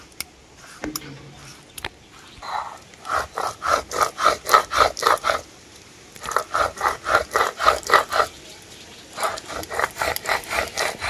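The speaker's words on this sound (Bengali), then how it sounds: "এটাকে মিহি করে বেটে নেব।" Spice paste with tomato and chillies for a rohu fish mustard-poppy seed curry is ground on a grinding stone, making loud rhythmic back-and-forth rasping strokes in two long runs, with brief pauses between.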